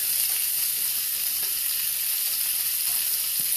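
Bok choy sizzles steadily in a hot pan as it is tossed, a constant bright frying hiss with faint stirring clatter, close and uninterrupted, with no voices.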